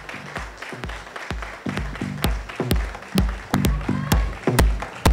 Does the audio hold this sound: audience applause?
yes